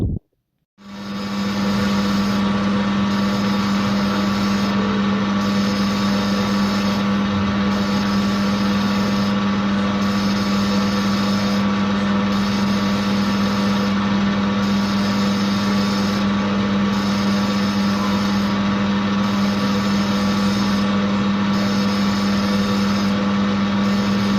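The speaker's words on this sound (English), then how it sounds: "As you can see, we are spinning the lathe very slow." A lathe turns slowly as it bores out the inside of a gear for a 4 1/2 inch Burrell build, a loud steady machine hum with a strong low tone that runs on unbroken, no voices.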